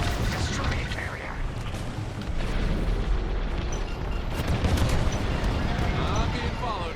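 Starship carrier explosions and blaster fire in the Star Wars Squadrons rebellion campaign, a dense, loud, continuous roar of blasts and bursts with voices talking over the battle.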